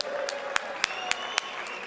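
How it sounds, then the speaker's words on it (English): Crowd at an MMA event applauding both fighters, a steady roar of cheering and clapping with a few sharp, regularly spaced claps or bangs punching through near the microphone. "round of applause for both these warriors"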